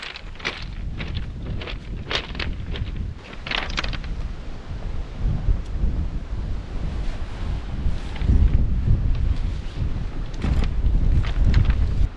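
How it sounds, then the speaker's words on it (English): Steady wind of around 10 to 15 mph blowing across a seaside beach, buffeting the microphone with a constant low rush that swells louder toward the end, with faint surf and footsteps beneath. "the wind is holding a very constant 10 to 15 miles an hour"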